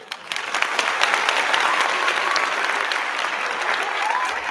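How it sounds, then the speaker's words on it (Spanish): Audience applause welcoming a guest named Jesús, dense steady clapping from a crowd that swells quickly at the start and holds loud and even throughout. "dar la bienvenida con un fuerte aplauso en este momento a Jesús"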